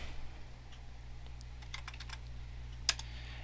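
Scattered keystrokes tap on a computer keyboard as a command is typed, close and faint, irregular clicks with one sharper key press near the end, over a steady low hum.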